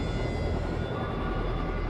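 A UH-1 Huey helicopter with a 1,300-horsepower engine, hauling logs on a timber operation, makes a loud, steady engine and rotor roar that fills the whole stretch without a break.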